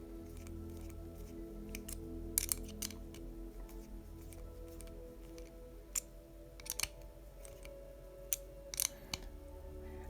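A screw being driven into a Tamiya ThunderShot (2022) model kit's front arms and axles: faint, sparse clicks and ticks over a low steady hum, quiet and close.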